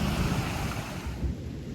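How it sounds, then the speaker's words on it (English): Flash-flood runoff from downtown pavement rushes down Flat Branch Creek near a bridge after sudden heavy rain, a loud, steady, broadband roar of churning water with wind buffeting the microphone and no speech. "That's the initial flush of water from all the pavement downtown hitting this part of Flat Branch Creek after that sudden heavy rain."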